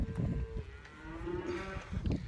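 An older cow, a beef cow at breeding season, moos loudly and at length, a drawn, low bellow with rising and falling pitch, close by. A second short low call follows near the end over rustling farmyard noise.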